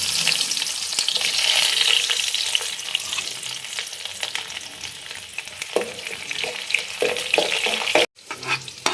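Garlic frying in hot oil with mustard seeds, a loud, steady hiss and sizzle with crackling pops and stirring clinks, a brief drop near the end before the sizzle resumes.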